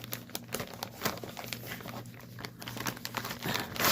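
Plastic packaging of a Joy Sunday stamped cross stitch kit crinkles and rustles nearby, close and continuous for a few seconds with small sharp crackles and a brief louder rustle at the end.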